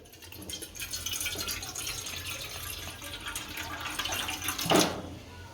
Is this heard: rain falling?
no